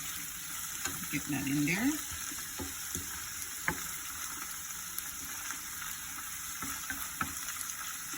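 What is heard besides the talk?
saltfish sautéing in a pan with seasoning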